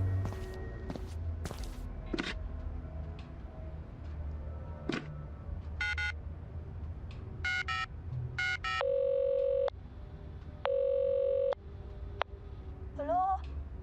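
An in-game telephone in The Initiate 2: footsteps and clicks, then a series of dialing tones, two long ringing tones and a short warbling beep, close and clear.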